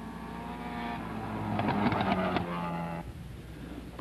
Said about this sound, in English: Here we see Craig Forsberg going down the straight into the hairpin.